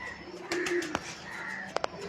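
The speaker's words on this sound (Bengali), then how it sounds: "সাদা পায়রা, প্রচুর ঝোটন পায়রা" White and fantail pigeons in a pigeon garden at Ramharipur, Bankura coo softly in a short low burst, followed by a few faint sharp clicks against a quiet outdoor background.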